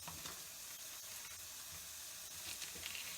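Sliced pepper pieces sizzling in a saucepan, a faint, steady frying hiss with soft crackles, quiet and continuous.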